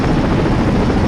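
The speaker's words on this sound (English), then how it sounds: "I'll be piloting this Mi-24 Hind helicopter into battle." A Mi-24 Hind attack helicopter in the video game Battlefield Iraq roars with loud, steady rotor and engine noise that fills the whole moment, with no voices over it.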